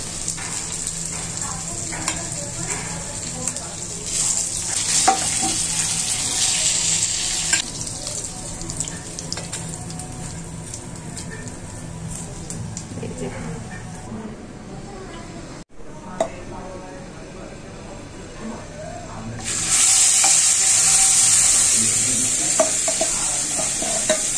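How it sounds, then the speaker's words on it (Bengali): Fish fries in a pan with a steady, loud sizzle that runs throughout, along with occasional clatter from the utensils. The sizzle briefly dips and then swells again into a brighter, hissing burst. "মাছ ভাজি হয়ে যাচ্ছে"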